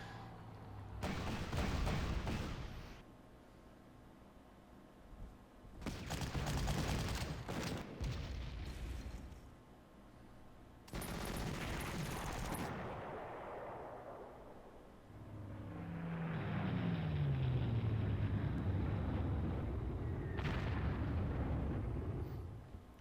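Booming artillery blasts in the Panzer Corps wargame, set in Operation Barbarossa, arrive in several loud, separate bursts, each with a long rumbling decay, and a low droning tail at the end.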